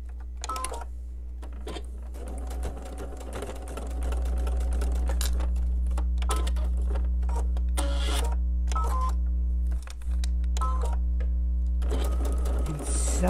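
A sewing machine stitching quilt seams runs in a loud, steady mechanical whir, stopping briefly a few times between bursts of stitching, with a low hum underneath.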